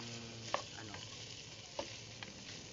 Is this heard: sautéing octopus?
yes